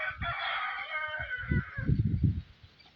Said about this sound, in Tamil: சேவல்கள் என்பன, கழுத்துப்பட்டி சேவல்கள்